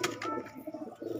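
Breeding pigeons in a loft give soft, low rolling coos, a short murmuring run of throaty notes heard fairly close but quiet, with no talking.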